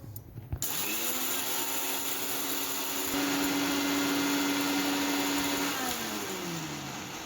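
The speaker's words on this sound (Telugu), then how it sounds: "ఒకటేసారి అన్నీ కాకుండా కొద్దిగా వేసుకొని మిక్సీ పట్టుకుందాం." A kitchen mixer grinder whirs steadily as it grinds fenugreek seeds, the motor pitch rising and holding through the middle before easing down near the end, loud and close with no talking.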